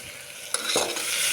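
Onions, carrots, potatoes and tomatoes cook together in a pan, giving a steady close sizzle with a brief stirring scrape partway through.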